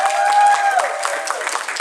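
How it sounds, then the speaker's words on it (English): Audience applause at a furry convention's opening ceremony, dense clapping with a thin held tone or whoop over it at first, then continuing with scattered sharper claps as it begins to taper. "So big round of applause for Alex"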